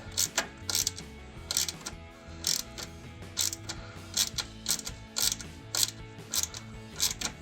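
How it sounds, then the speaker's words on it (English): A hand ratchet clicks rapidly in repeated bursts while bolts are screwed in during a Jeep Wrangler JK radiator install, steady close mechanical ticking with brief pauses between strokes. "So we're going ahead and screwing everything in."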